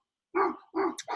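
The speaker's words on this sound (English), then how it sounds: "There's a lot of dogs right here right now" Dogs bark close by, two quick loud barks followed by the start of a third, sharp and distinct with nothing else behind them.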